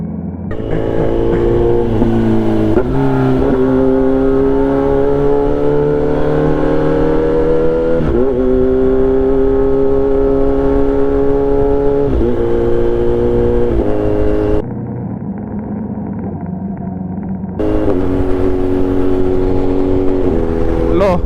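A Kawasaki Z1100 motorcycle cruises in sixth gear along open college roads with a loud, steady engine drone. Its pitch rises and falls gently, and the level dips briefly for a few seconds near the end.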